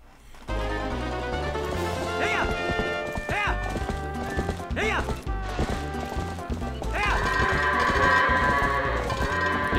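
Horse hooves clopping and a couple of whinnies ring out over dense game music in The Legend of Zelda: Twilight Princess, with repeated neighs standing out clearly throughout.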